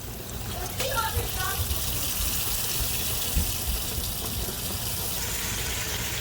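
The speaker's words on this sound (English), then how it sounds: "So now I'm getting another pan and I'm rinsing it out" Tap water runs steadily over a cooking pan as it is rinsed in a kitchen sink, a continuous close gushing and splashing that fills the whole stretch.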